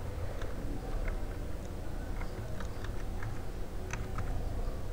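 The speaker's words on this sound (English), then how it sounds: "let me type in the password" Password being typed on a computer keyboard: a run of light, irregular key clicks over a steady background hum, with no talking.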